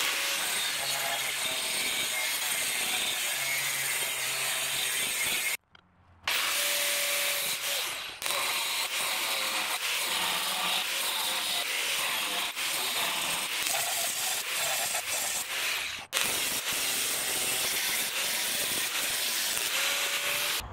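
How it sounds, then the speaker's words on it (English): Steel is cut for a rectangular lost wax casting flask, a loud continuous abrasive grinding hiss that runs almost nonstop, broken by two brief pauses. "So let's cut some more steel."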